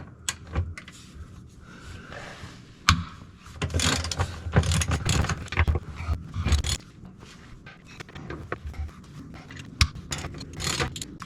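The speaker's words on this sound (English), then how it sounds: "Sometimes the bolts are a little stuck, so I'm going to use a 1/2-inch drive ratchet" A 1/2-inch drive ratchet loosens stuck access-panel bolts under a Kubota SVL75-2 track loader; repeated close clicking ratchet strokes with metallic clanks and scrapes, irregular in rhythm, no voices.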